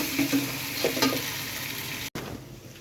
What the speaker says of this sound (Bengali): সুন্দর ঘি দিয়ে ভাজা পরোটা কোয়ালিটি হয়ে গেছে